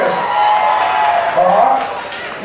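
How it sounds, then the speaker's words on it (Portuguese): Audience at a drag show in Brazil cheering and clapping, a dense crowd roar with whoops rising and falling steadily for a few seconds, with voices mixed in. "Aplausos, gente!"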